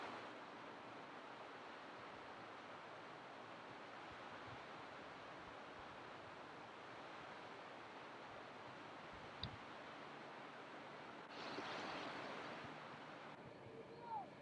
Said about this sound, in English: Here's some of the brook alongside the road.